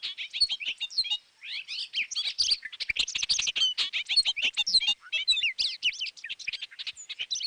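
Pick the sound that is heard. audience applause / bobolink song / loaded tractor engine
bobolink song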